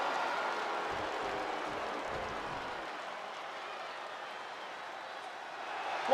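A virtual arena crowd in the WWE 2K22 wrestling video game, a broad steady roar of cheering and applause that holds at an even, moderate level for the whole stretch, swelling slightly at the very end.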